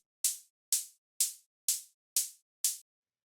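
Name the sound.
electronic hi-hat in melodic techno drum pattern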